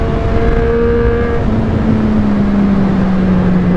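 A motorcycle fitted with a Yoshimura exhaust and Pilot Road 5 tyres accelerates on a sunny ride, its engine note a steady loud drone that climbs then settles, with constant wind rush throughout.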